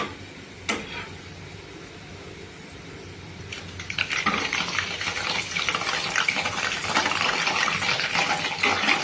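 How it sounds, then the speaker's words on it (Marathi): Salt water splashes into hot oil with frying raw banana chips, setting off a loud crackling sizzle that swells midway and keeps bubbling to the end, after a softer frying hiss and one sharp click. No talking. "त्यात इथं मी थोडंसं मिठाचं पाणी केलेलं आहे, ते थोडंसं त्यावरती टाकायचं।"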